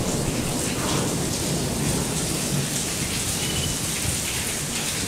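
Heavy rain pours down steadily, with thunder rumbling low beneath the constant downpour for the whole stretch, loud and close with no voices.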